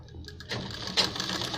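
Sewing machine stitching the collar of a ladies' kurta, a short burst of quick mechanical needle chatter that starts partway in after quiet handling sounds, close and without talk.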